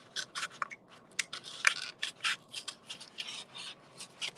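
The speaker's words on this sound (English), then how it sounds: "And then the other side I'll try with scissors and see which one works best." A series of short, crisp snipping and rasping scissor cuts on bird masks, irregular but steady, each a quick scratchy burst close by with brief quiet gaps between.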